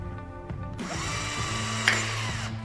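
A power drill runs steadily, enlarging a hole in hydroponic equipment, close and continuous with a brief higher whine as the bit bites, no talk.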